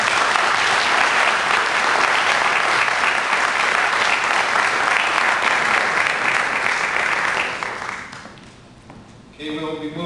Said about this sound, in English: Let's give our candidates a good round of applause